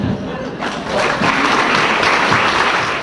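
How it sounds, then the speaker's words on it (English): Banquet audience at an annual historical museum dinner in Mission, Texas breaks into a round of applause, building from scattered claps into loud, dense clapping that carries to the end. "How about one more big round of applause to our honorees?"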